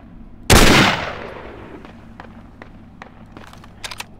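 A single loud gunshot cracks close by in the military shooter game Project Reality, on the Fallujah West map, then rolls away in a long fading echo followed by a few faint clicks.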